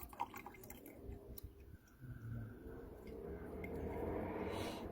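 Liquid is poured off settled silver powder in a container, giving a soft, quiet trickle and drips that swell into a steadier pour toward the end, with no voices.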